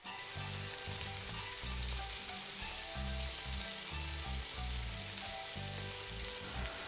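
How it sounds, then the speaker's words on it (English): Minced pork sizzles loudly in a pan as a spatula stirs and breaks it up, giving a dense, continuous frying hiss with rhythmic low scraping bursts underneath; close and steady, with no talking. "Stir well and use the spatula to break the pork"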